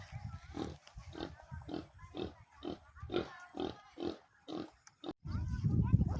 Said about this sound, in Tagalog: Tingnan mo yung pig.